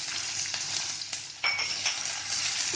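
Yellow, red and green capsicum stir-frying in a hot pan for keto Hakka zucchini noodles, a steady close sizzle broken by a louder burst as the peppers hit the oil, with faint scraping stirs.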